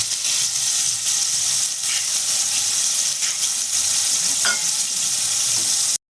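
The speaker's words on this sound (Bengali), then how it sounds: "পেঁয়াজ বাটাটাকে ভালো করে ভেজে নেব।" Capsicum, slit green chillies and onion paste frying in a pan, a steady loud sizzle running throughout with occasional stirring scrapes, then cutting off abruptly at the end.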